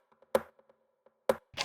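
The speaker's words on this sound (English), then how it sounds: "And then rimshot." Electronic rimshot drum sample in a minimal house arrangement, two sharp dry cracks about a second apart, each followed by quieter repeating delay echoes, with a brighter noisy burst closing it out.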